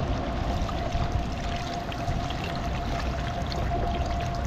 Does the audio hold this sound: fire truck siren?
no